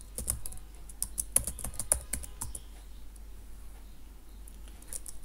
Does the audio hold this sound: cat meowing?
no